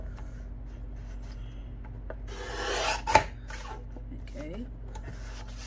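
A paper trimmer slices a book page with a brief rasping scrape that builds to a sharp snap, heard near and fairly faint against a quiet room, with a word spoken just before.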